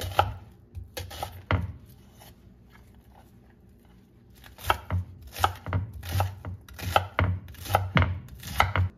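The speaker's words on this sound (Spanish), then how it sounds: "La cebolla se pica finamente." Knife finely chopping onion on a cutting board, sharp quick taps in a few short runs, sparse at first and then a fast steady flurry, close and alone without talking.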